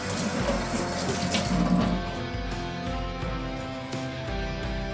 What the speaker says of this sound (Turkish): Ellerimi yıkayayım.